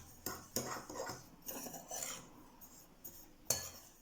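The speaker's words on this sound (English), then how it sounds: "After we finish mixing the cinnamon filling" Cinnamon filling being mixed in a bowl, heard as quiet, close scraping and rasping strokes of a utensil against the bowl, coming in irregular bursts with short pauses between them.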